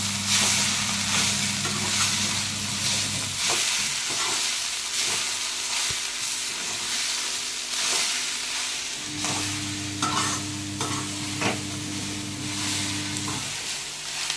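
Jackfruit bhaji coated in masala is stirred in a sizzling pan, with continuous frying hiss, repeated scraping strokes and a low steady hum, close up and without talk.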